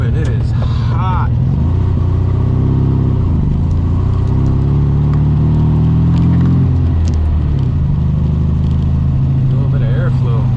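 Classic Volkswagen Beetle driving on a hot day with the air conditioning running, a steady low engine drone and road rumble filling the whole stretch, with slight rises in pitch as it moves along.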